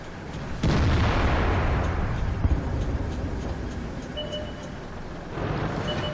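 A Rhm Borsig Waffentraeger tank destroyer's 150 mm gun fires in World of Tanks, a sudden loud boom that rolls into a long rumbling decay, with distant battle noise continuing behind it and a second swell near the end.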